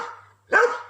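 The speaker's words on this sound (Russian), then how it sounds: "Собака лает." A single sharp dog bark rings out near a two-storey timber house plot in a village, preceded by a faint whine, with a low steady hum underneath.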